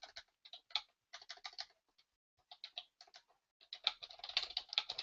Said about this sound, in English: oh, my keyboard is driving me nuts.